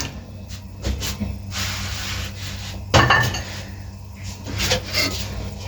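Raw chicken pieces go into a karahi pot over a coal-smoked cooking setup, giving a few soft clanks and rubbing knocks of meat and utensil against the metal, with a sharper clatter midway.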